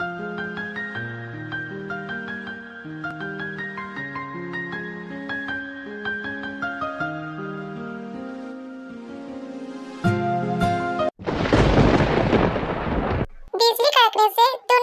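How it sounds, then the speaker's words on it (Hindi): A sharp thunder crack during a storm bursts in loudly after soft melodic music, a harsh roaring crash lasting a few seconds before a brief high-pitched voice cuts in. "बिजली कड़कने से दोनों ही ख्वाबों की दुनिया से बाहर आता है"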